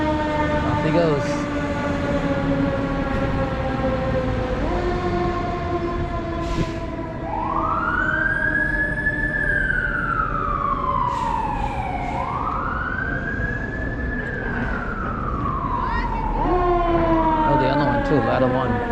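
Boston fire engine siren as Engine 8 pulls out in the North End, starting with a steady horn-like tone and then sweeping into loud, rising and falling wails that repeat over street noise.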